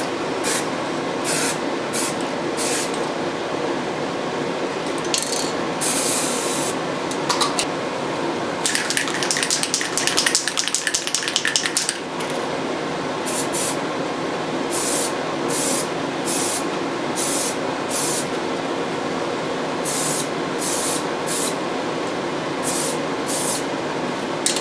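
Rattle can spray paint hissing onto the light buckets and flatbed of an RC car, a long steady close spray broken by short bursts and one denser stretch of spraying.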